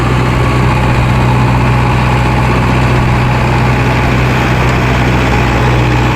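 An Arjun Novo 655 4x4 tractor engine runs with a 9-foot super seeder attached, producing a loud, steady, low diesel throb with constant vibration, close by and unbroken throughout.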